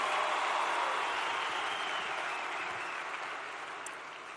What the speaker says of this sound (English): A round of applause for those two that are represented.